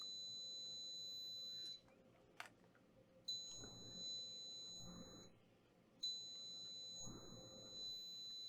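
A multimeter continuity beeper on a motherboard sounds in three sustained high electronic tones, each lasting over a second with short gaps between, while soft background noise and a brief click come through.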